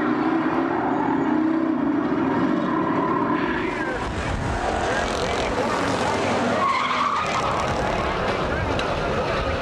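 Race cars at Kawartha Speedway, an oval track during a race, give loud continuous engine roar with tire skidding and squeal throughout, and a voice speaks over the noise.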